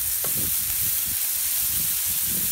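Smash burgers and onion slices sear on a flat griddle, producing a loud, constant hissing sizzle with scattered pops and spatters, close up and uninterrupted, with no talking.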